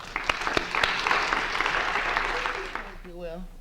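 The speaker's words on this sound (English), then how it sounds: "Let's give a warm round of applause to Rachel." An audience at a math teachers' Ignite presentation evening applauds a presenter, with sharp individual claps over a steady roar for about three seconds before it dies down and a single voice begins speaking.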